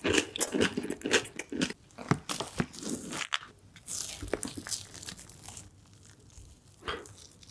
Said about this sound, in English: eating those delicious Christmas cakes